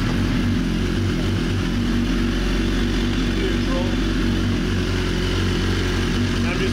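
A BMW S1000RR sport motorcycle's inline-four engine runs at a steady, loud idle throughout, with a constant low drone and no clear start-up moment.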